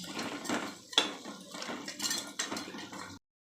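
Chicken curry with eggs is stirred in a pot, giving repeated metallic spoon scrapes and clinks against the vessel in an uneven rhythm, up close, ending in a sudden cut to silence.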